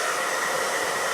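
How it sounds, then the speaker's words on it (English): A hairdryer set to hot and high blows a steady, loud broadband whoosh without a break, used to dry paint on a weathered Star Wars-style model piece. "Now I'm going to speed up the drying process with a hairdryer."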